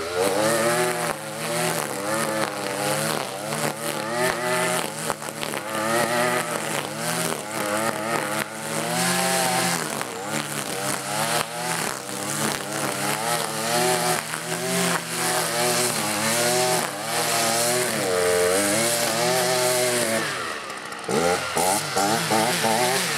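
A Husqvarna 326LS string trimmer with a gas engine runs close and loud, its buzzing two-stroke whine rising and falling steadily with the throttle while cutting grass, with a brief drop near the end.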